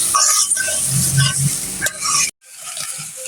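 Spice masala being stirred and fried in a pan for a spicy pangas fish bhuna, loud close sizzling with scraping stirring strokes, cut by a brief moment of silence before the frying resumes more softly.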